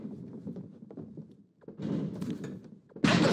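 Wrestler slammed onto the ring mat during a WWE women's tag team triple threat title match, a heavy thunk landing amid mid-level crowd noise, with a loud burst of crowd roar at the end.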